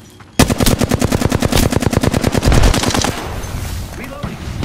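Apex Legends gunfire: a long, rapid, evenly spaced automatic burst, loud and close, stopping after about three seconds and leaving a fading echo and background noise.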